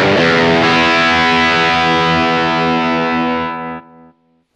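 A single distorted electric guitar chord through a Laney Mini practice amp, ringing loud and sustained for nearly four seconds before cutting off abruptly.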